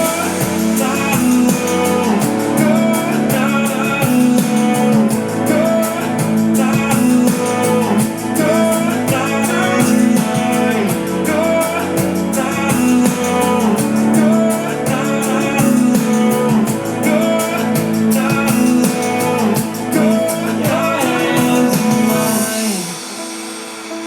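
The full drop of an electronic song, with chopped vocal samples over layered synths and a steady driving beat, loud and continuous before cutting off near the end.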